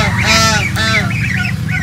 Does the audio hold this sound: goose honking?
yes